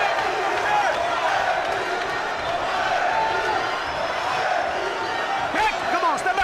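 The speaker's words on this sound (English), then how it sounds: "And listen to the crowd now supporting Ilunga Makabu" A boxing crowd roars steadily in support of Ilunga Makabu during his fight with Thabiso Mchunu, a dense, continuous wall of cheering and shouting with a ringside commentator talking over it.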